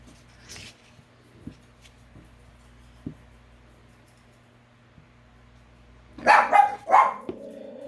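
Chihuahuas bark near the end, a quick cluster of loud, high, yappy barks after several seconds of near silence broken by faint scratches and taps.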